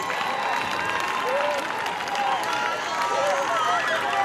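A large crowd at a religious healing service applauds and cheers loudly and continuously, a dense wash of clapping and shouting voices with scattered whoops rising above.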